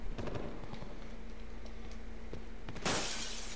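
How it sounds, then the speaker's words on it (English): Glass shatters in Call of Duty Black Ops Cold War: a bright, noisy crash bursts in near the end after a stretch of steady game ambience with scattered light clicks and taps. "Breaking some glass while eating some ants."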